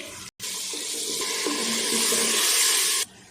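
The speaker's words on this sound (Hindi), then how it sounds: "थोड़ा सा पानी मैंने डाल दिया" Water pours steadily into a pressure cooker of frying tomatoes and spices for about three seconds, a close, rushing splash that stops abruptly.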